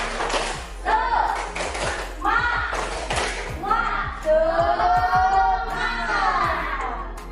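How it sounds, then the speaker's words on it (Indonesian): A class of students does the tepuk semangat spirit clap, with sharp, rhythmic hand claps in patterned bursts mixed with their voices chanting along. "Tepuk semangat."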